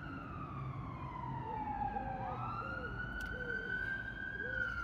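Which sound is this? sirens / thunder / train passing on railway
sirens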